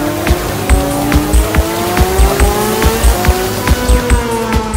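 Racing engines roar in a MotoGP motorcycle video game, revving in a steady rising drone with repeated sharp gear-shift pulses and tire noise, loud and continuous with no talk.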